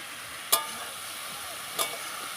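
Young jackfruit sizzles steadily in a hot pan with a little oil, broken by two sharp scrapes of a spatula about a second apart, close and moderately loud, with no talking.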